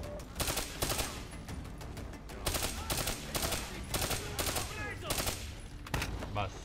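Rapid bursts of automatic gunfire in Call of Duty Black Ops 3, loud repeated volleys of machine-gun shots in quick succession, with a voice talking faintly underneath.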